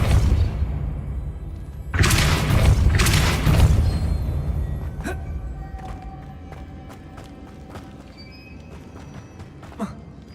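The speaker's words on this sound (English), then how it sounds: "Making this spin ought to raise that platform. That must be it. Depulso." A deep magical boom and whoosh as the Depulso spell sets a mechanism spinning to raise a platform in Hogwarts Legacy, followed by a fading rumble and scattered faint clicks.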